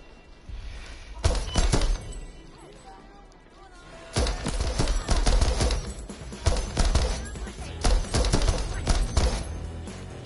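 Heavy gunfire in the first-person shooter Deathloop, with loud bursts of shots and impacts clustered in several sustained volleys, close and harsh, a quieter stretch between them.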